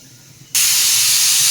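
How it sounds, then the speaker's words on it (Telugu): A pressure cooker cooking rice abruptly bursts into a loud, steady steam hiss after a quiet moment, the sharp rush continuing to the end, with no talking. "రెండు విజిల్ వచ్చేసాయి రైస్ అయిపోయింది"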